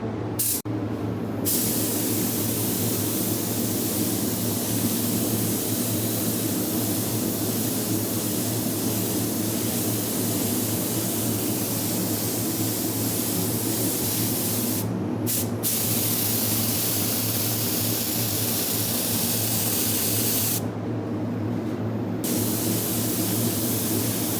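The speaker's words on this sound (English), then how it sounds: "I'm going to spray this area with the white paint." A steady, loud hiss of a spray gun spraying white paint onto a Pinarello F10 bike frame runs almost continuously, broken by a few short pauses where the spraying briefly stops.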